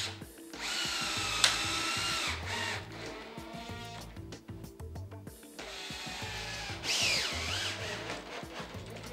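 A power drill drives screws to fix a lock into the lock recess of a new door, whirring in several sustained bursts with brief pauses and speed changes, close and loud with no talk.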